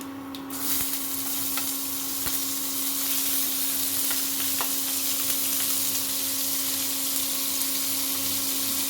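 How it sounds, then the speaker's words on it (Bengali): Nigella seeds and chopped onion sizzling steadily in hot oil in a pan, a dense, continuous frying hiss with occasional small pops and faint stirring clinks, close and even throughout. "তেল গরম হয়ে গেছে, এর মধ্যে কালো জিরে দিয়ে দেবো"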